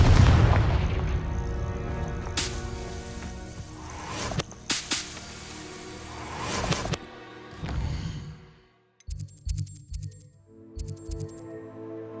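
Confringo fire spell blast in the Hogwarts Legacy video game: a loud whip-like crack and booming burst with sharp repeated snaps over a sustained roar, then fading into softer magical tones and thuds.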